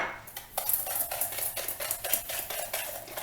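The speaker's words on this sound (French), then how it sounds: "Donc on mélange les jaunes et le sucre." Egg yolks and sugar being whisked in a bowl, a quiet, steady rhythmic clinking and scraping of the whisk against the bowl with no talking.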